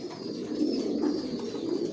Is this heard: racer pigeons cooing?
yes